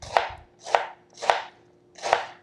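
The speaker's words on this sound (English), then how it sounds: "We'll cut this by hand so we don't waste anything." Vegetables chopped and shredded by hand with a knife on a cutting board for okonomiyaki, four crisp, evenly spaced strokes, close and clear with no talk.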